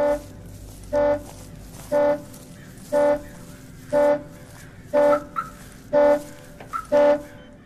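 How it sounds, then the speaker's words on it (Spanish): An old car alarm in the horror game Abandoned Souls blares in steady, evenly spaced honks about once per second, loud and close, with faint clicks between the blasts. "Necesito estar más cerca para activar para desactivar la alarma."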